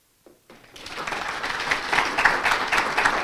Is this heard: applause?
yes